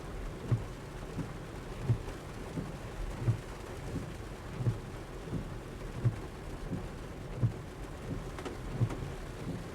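Rain drumming on the roof of a Kia EV6 RWD GT-Line, heard from inside the cabin as a steady pattering wash with soft, regular low thumps recurring about every second and a half.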